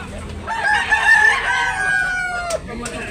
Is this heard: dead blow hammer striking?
no